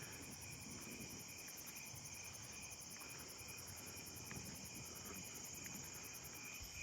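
Sword-bearer conehead katydid singing in a nighttime neighbourhood, a faint continuous high buzz over a bed of other insects, with soft low rumble beneath.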